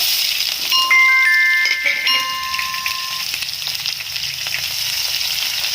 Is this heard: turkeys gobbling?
no